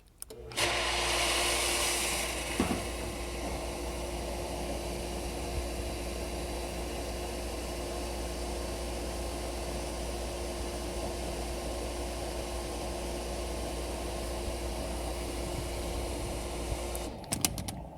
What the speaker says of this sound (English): I'm turning the motor off so you can hear me.